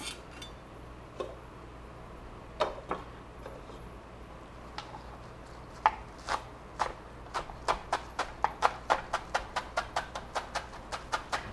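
Knife chopping vegetables for a fricassee on a board: sharp, isolated cuts at first, then a quickening run of regular close chops, with no talk.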